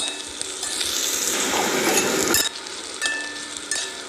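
Onions with salt frying in a pan, a dense, steady sizzle with occasional stirring scrapes, close and loud with no talking.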